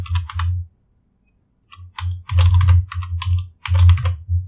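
Rapid bursts of computer keyboard typing while a sign-up form is filled out, clattering keystrokes in several quick runs separated by a brief pause, close and clear with no voices.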